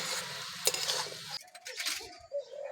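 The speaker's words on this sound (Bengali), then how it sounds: "আদা জিয়ে শুকনো লঙ্কাটা দিয়ে দিচ্ছি মশলাটা ভালো করে ভেজে নেব" Ground spice paste with ginger and dry red chilli frying in oil for a winter vegetable dish, a low sizzle under stirring, then the frying drops away to scattered scrapes and clinks of a spoon in the pan.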